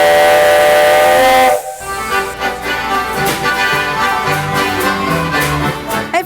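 An old steam train whistle blows loud and sustained, cuts off briefly, then sounds again over hissing steam and mechanical clatter.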